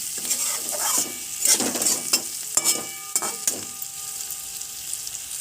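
Flat beans (sheem) being stirred in a pan during cooking for Bengali sheem paturi, with scraping spoon strokes over a steady sizzle, close and moderately loud, with no talking.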